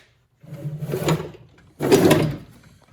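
A metal drawer on a Craftsman toolbox slides twice, two loud, close rolling strokes separated by a short pause, with no speech.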